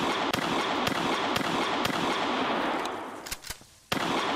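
Video game gunfire in Last Village: a run of sharp, evenly spaced shots rings out against constant background game noise, then a brief lull before a couple more loud reports, with no talking.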